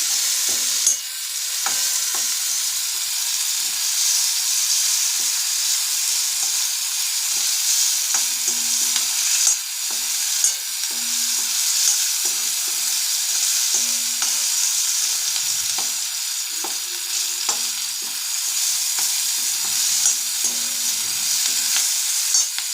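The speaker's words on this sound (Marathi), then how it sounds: "सारखं फ्राय करत राहावं लागणार आहे कांद्याला जोपर्यंत लाल नाही होत तोपर्यंत फ्राय करत राहायचं" Onions frying with a little salt in a pan, a loud steady sizzle running throughout, with repeated scraping and tapping as a spatula stirs them, no speech.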